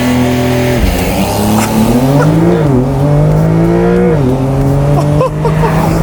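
A 2022 Porsche 911 Carrera 4 GTS Cabriolet engine revs hard and loud, its raspy pitch climbing through several gear changes close by, with no talking.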